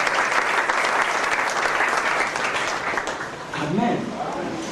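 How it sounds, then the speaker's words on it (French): A church congregation applauds loudly for the Lord, thick clapping that swells and then eases, with a voice rising over it near the end. "Acclamez très fort le Seigneur."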